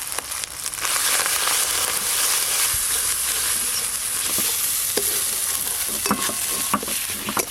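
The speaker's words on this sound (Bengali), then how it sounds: "আদা রসুন আর পেঁয়াজ একসঙ্গে ভালো করে কষে নিয়েছি" Ginger, garlic and onion paste fries in a pan with a dense, steady sizzle, broken by repeated scraping and stirring knocks from a utensil, close and loud, with no talking.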